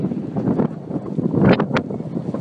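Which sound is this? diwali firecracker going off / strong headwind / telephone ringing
strong headwind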